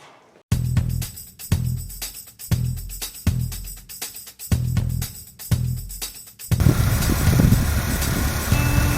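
An automatic four-cylinder kei truck with a cracked head cranks in a series of rhythmic starter bursts, about six pulses, then catches and settles into a loud, rough, steady idle.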